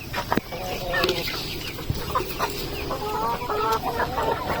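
Native chickens and chicks cluck and peep close by in a continuous, busy chatter of short calls on a farm.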